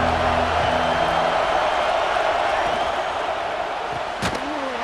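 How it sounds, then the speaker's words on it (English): Stadium crowd in a college football video game roars as a broad, steady wall of cheering and noise that stays dense throughout, with a brief sharp swell near the end. "This crowd ready to make its presence known."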